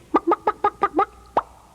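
A hen clucks in a quick series of six short, evenly spaced calls, then a brief pause and one final cluck, close and clear.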